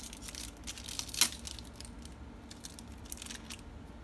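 Scissors cut open plastic packaging on a surprise toy, with a soft crinkle and one distinct snip standing out, quiet and close, with no voices.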